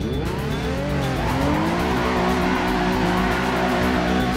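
Nissan Fairlady Z NISMO Z34 (Z370) racing in the Assetto Corsa driving game, its engine droning loud and steady throughout with rising revs and tire squeal layered over the continuous roar.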